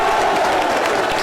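Audience at a youth competition event at a technical high school applauds and cheers, a loud sustained burst of clapping that fills the room.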